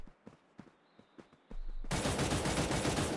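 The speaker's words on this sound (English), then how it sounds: "Do a couple of shots just there." Gunfire in the video game Cyber Hunter: a few sharp separate shots, then a sudden dense burst of rapid fire filling the second half.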